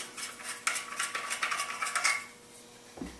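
A metal shotgun magazine tube is unscrewed from the receiver, a steady metallic scraping and clinking run for about two seconds, then a soft thud as it comes free.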